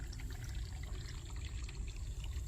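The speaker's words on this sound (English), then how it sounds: "there's this little creek that runs all through here" A small creek trickles outdoors, a steady, soft, continuous wash of water with no voices over it.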